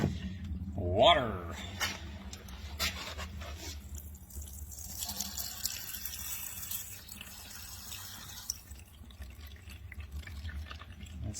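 Water draining out of the oil pan of a 1972 GMC 3500 tow truck, a steady splashing trickle with drips, heard close under a voice speaking.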